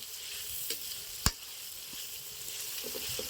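Ginger garlic paste and masala frying in a pan for mutton curry, a steady close sizzle with stirring scrapes and one sharp clack of a spoon against the pan, no voices.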